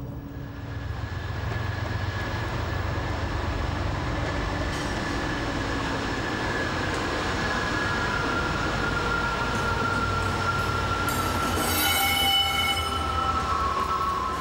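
A Class 250 Blue Tiger diesel locomotive runs steadily on a railway line, a loud continuous engine drone with rail rumble that carries on for the whole stretch, with higher tones creeping in near the end.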